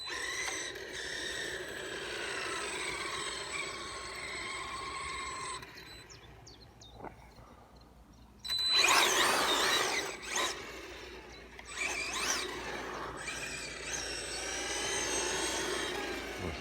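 Maverick Strada RX RC rally car with its electric motor at quarter throttle, a high whining drone that rises and falls, cuts out briefly, then returns with louder bursts, fairly close and alone with no talk.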